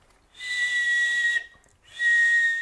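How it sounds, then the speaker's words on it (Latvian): Two steady, clear whistle tones sound close and loud, each held about a second, with a short silent gap between them. "Svilpiens."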